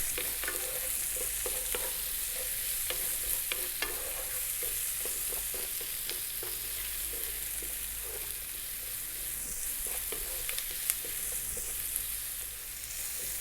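Vegetables fry in a pan over medium heat with salt and pepper for a vegetable shepherd's pie. A continuous close sizzle runs throughout, with scattered clicks and scrapes from stirring.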